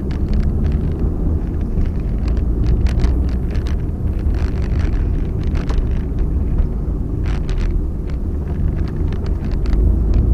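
A car drives along a road at night through traffic, a steady low engine and tyre rumble with wind buffeting throughout, no voices.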